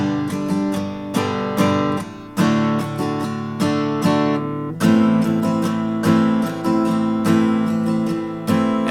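Guitar plays the easy chords of a song, strummed in a steady rhythm of ringing chords, one or two strokes per second, clear and close with no voice.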